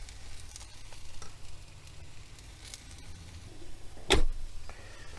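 Mushrooms and garlic sizzle in a stir fry pan in a van kitchen, a soft steady hiss with light scraping and one sharp clack near the end.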